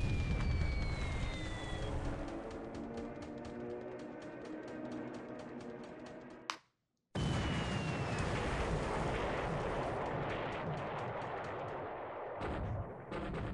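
Torpedo and bomb explosions in a Pacific War naval strategy game, including a Pearl Harbor-style strike: dense rumbling bursts and rapid repeated blasts, cut by a brief silent gap before heavy detonations resume.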